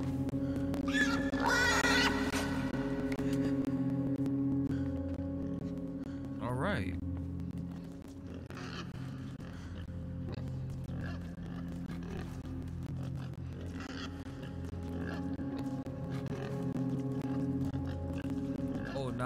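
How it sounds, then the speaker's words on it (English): A pig in the video game INSIDE grunts and squeals repeatedly in frantic bursts over a low droning game soundscape, with a person talking intermittently over it. "This pig is bonkers, bro."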